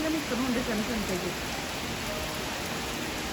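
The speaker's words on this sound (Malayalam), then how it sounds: "ഞാനത് പറയാണ്ട് വന്നൊരു മഴയാണ്" Steady rain falls on trees and leaves outdoors, a continuous soft hiss of drops throughout. A person speaks briefly over it at the start, then the rain carries on alone.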